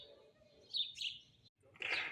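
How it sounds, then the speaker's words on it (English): Small birds chirping in short bursts at moderate distance, with a brief pause before a louder flurry of tweets, in a quiet outdoor setting beside the sea. "Doesn't that ever get annoying to you, those chirping birds?"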